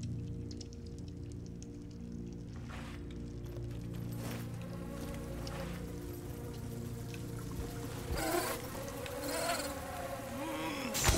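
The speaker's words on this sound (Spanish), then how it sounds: "Mosquitos." Steady insect buzzing from mosquitoes in the game Tails of Iron, a continuous droning whine with a few sharper hits and swells over it, with no talking.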